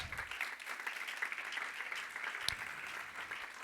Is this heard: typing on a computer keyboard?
no